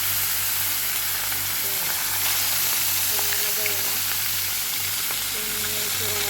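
Fish frying in oil in a pan gives a steady, close sizzle and crackle that runs the whole time, with a low hum underneath and no voices.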